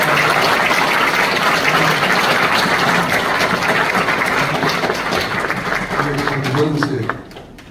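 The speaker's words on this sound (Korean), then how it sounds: "크게 박수 주시기" A church audience applauds loudly at a dedication service, sustained dense clapping that fills the space for about seven seconds, then drops off abruptly near the end.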